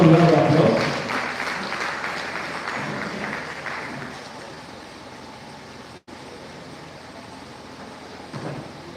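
Applause rises from the audience at an inter-tertiary debate competition, a loud burst of clapping in the opening seconds that quickly fades into a low murmuring room hum.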